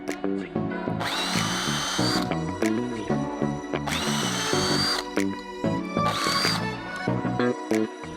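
A power drill whines in repeated bursts while building a fence, the motor rising and falling as it bites into material, close and loud with clattering in between.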